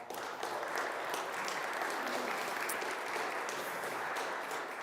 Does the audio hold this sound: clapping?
yes